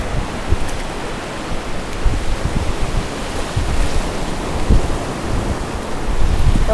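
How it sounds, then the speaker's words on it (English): Surf washing steadily onto a beach with wind buffeting the microphone, a continuous broadband rush with occasional louder wave swells, close and unbroken throughout. "It's our beautiful beach."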